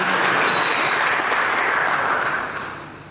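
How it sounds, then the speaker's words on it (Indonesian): A congregation at a church service claps together, a thick, loud burst of applause that stays even for about two seconds and then tapers off. "Mari kita berikan tepuk tangan."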